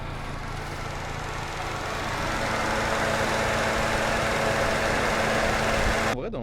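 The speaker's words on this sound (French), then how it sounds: "Le moteur se régule." A Fiat Panda engine idles steadily nearby, a continuous mechanical hum that rises slightly in level midway as the idle regulates, before cutting off abruptly at the end.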